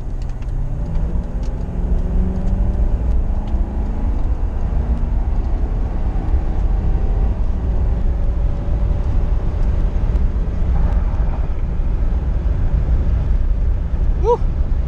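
A Crown Victoria Police Interceptor engine roars and climbs in pitch as it revs hard to about 4,000-4,500 RPM, heard from inside the vehicle with loud, steady road and wind noise.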